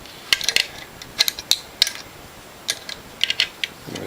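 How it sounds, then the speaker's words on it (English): Bolts being tightened on a Norwalk juicer with a wrench, giving quick metallic clicks and ratcheting taps in small bursts, close and fairly crisp, with short pauses between. "I'm going to tighten down these two bolts"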